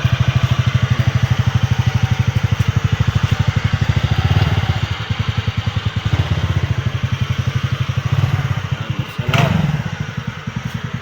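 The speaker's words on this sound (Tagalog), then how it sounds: "Hindi na maingay yung makina." A repaired Easyride 150 N motorcycle engine idles steadily and fairly quietly after a valve clearance fix, a close, even low putter with a couple of brief swells in revs.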